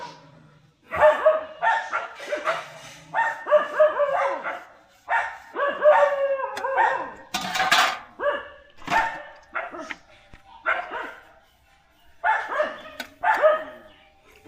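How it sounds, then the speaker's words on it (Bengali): A dog barks repeatedly in a Bangladeshi street in the morning, a loud, near run of sharp barks and yips in uneven bursts with short pauses, some whimpering tones mixed in. "কুকুর ডাকছে কেন তো?"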